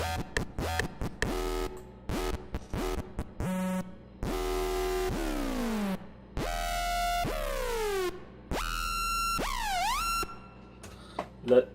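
A metallic synth bass patch made in Harmor in FL Studio plays choppy stabs, then sustained notes with sweeping, bending pitch glides, loud and alone with no voices.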